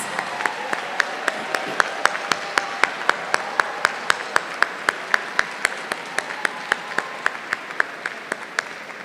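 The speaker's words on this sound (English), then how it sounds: "Let's give them a round of applause." Steady applause from the audience at an engineering commencement ceremony, a dense, sustained wash of clapping with sharper individual claps standing out near the microphone throughout.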